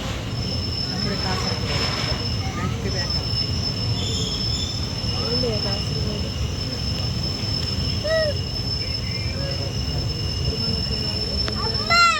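A train pulls into Payyannur railway station, its wheels squealing in high, wavering tones over a steady rolling rumble, close and fairly loud throughout.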